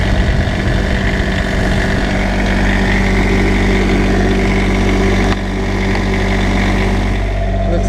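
A generator engine runs steadily after an oil and filter change, a loud close droning hum with a constant low tone and no pauses.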